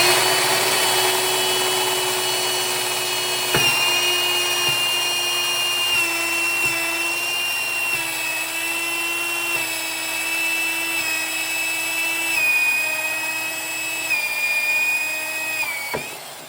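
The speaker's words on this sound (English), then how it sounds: "You'll need a 3/4 inch set bit to drill a hole, as we see demonstrated right here." A power drill fitted with a 3/4 inch bit bores a hole through a plastic water bottle, giving a sustained high whine close to the mic with small pitch dips as the bit bites, running alone throughout.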